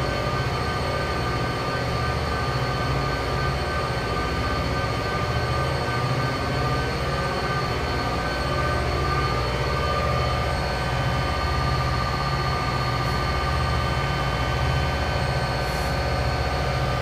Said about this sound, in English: I've got no more power to give to this train.